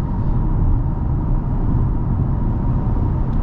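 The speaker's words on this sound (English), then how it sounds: "So tire noise coming into the cabin, and I'm only doing like 70 miles per hour" Steady loud low-frequency roar of tire noise inside a 2023 Toyota Camry cabin at about 70 mph on the highway, a constant dense drone with no talking.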